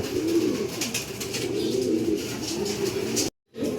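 Racing pigeons cooing close by in a loft, a steady run of low, throaty coos with some chirps above, broken by a brief silent gap near the end.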